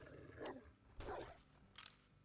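A wolf in the 7 Days to Die survival game lets out low, rough growls in two or three loud bursts over a steady in-game background hum.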